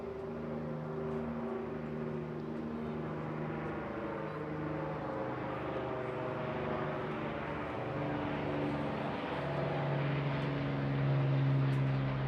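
A vintage WWII-era propeller aircraft drones overhead at the Bournemouth Air Festival, a steady, moderately loud engine hum with layered tones that swell slightly toward the end, continuous throughout with no talk.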